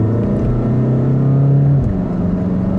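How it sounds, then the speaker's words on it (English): A 2015 VW Golf Sportwagen TDI diesel pulls away hard from a standstill with slight wheel spin, its engine droning loud and close and stepping down in pitch at a gear change. "A little bit of wheel spin on that one."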